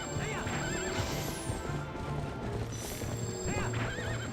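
A horse in Zelda: Twilight Princess HD neighs loudly twice over steady galloping hoofbeats, with game music and effects throughout.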